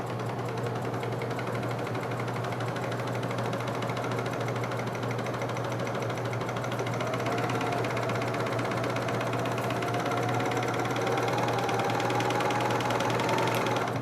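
A serger sewing machine trims quilt fabric, running as a continuous, even mechanical whir and rapid stitching clatter at close range with no pauses and no voices.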